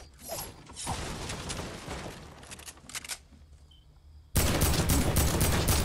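Gunfire in a video game: a quick run of loud, sharp shots, with a short lull before a sudden, sustained burst of heavy firing near the end.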